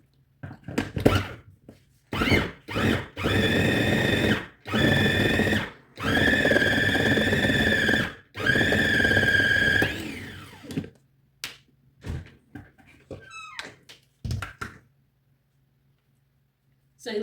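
Electric hand mixer beating milk and flour for a fish pie batter in a home kitchen, several loud motor bursts of a few seconds each with gaps between, followed by clatter and a voice talking.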